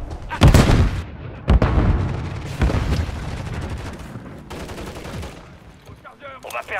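Gunfire in Call of Duty multiplayer, loud cracking shots and booming blasts in several bursts, then rapid scattered fire tapering off, with game voice callouts mixed in.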